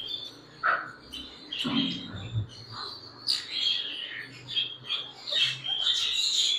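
Ringneck parrots and other exotic birds call at a bird shop, with repeated close chirps and squawks over a low background, and someone speaking intermittently underneath.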